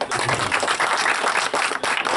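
Audience applause for a candidate at a gathering, a steady wash of many hands clapping at close range, continuous and fairly loud for a couple of seconds with no voices over it.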